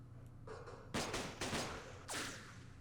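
Sniper gunfire in the Vietnam war game Campaign Series Vietnam, Battle of Dak To: a faint crack followed by three sharp, louder shots in an uneven rhythm, with no talk over them.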